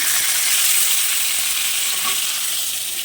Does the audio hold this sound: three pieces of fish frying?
yes